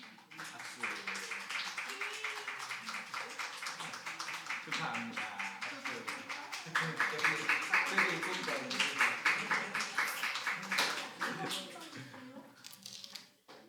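Church congregation applauding at a Sunday service award ceremony for a children's group dance prize, a steady rippling clap lasting many seconds and swelling midway, with a speaking voice over it at the start.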